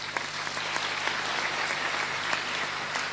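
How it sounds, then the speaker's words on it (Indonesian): Audience clapping for Cak Fuad at a religious gathering, a steady, fairly soft patter of many hands heard from a distance over a low electrical hum, with no talk. "semua tepuk tangan untuk Cak Fuad"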